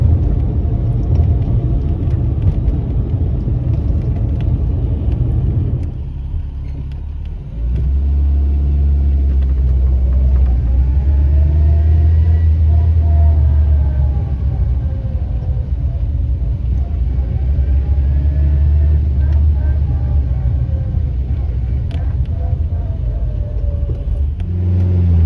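An Austin Allegro drives along a road on a run into Belper, its engine a steady loud rumble with a brief dip and then a rise under acceleration, holding a continuous drone throughout.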